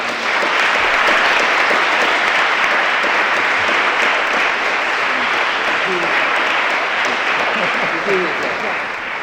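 A large audience claps in a sustained, loud round of applause at the close of a live legal talk event, steady dense clapping filling the whole stretch without a break.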